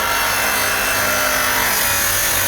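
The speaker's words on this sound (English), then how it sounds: "I had to use a handsaw to get through" A handsaw cuts through wood in a constant, close, loud rasping scrape during a table saw installation, with no talk over it.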